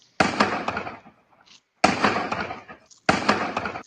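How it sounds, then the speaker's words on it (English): Bursts of crackling fireworks or firecrackers go off in three loud, dense clusters separated by brief gaps, played back as a recording. "I think that's a fireworks deal. Like the way it sounds like fireworks to me."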